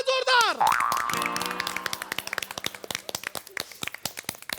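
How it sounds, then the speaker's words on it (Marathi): Live comedy show audience breaking into applause, a burst of clapping after a springy comic boing effect, starting thick and fading into scattered individual claps, with a voice over the opening. "टाळ्या जोरदार"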